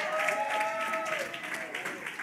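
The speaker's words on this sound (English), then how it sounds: "y'all make some noise up in here" A church outreach crowd cheering and clapping on cue, a steady wash of applause and shouts in a large room, moderately loud, with a speaker's voice over it.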